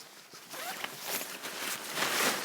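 A zip running along the bottom of the door of an Outwell Vermont XLP tent gives a continuous rasping run of about two seconds, close and moderately loud, with faint rustling of the fabric.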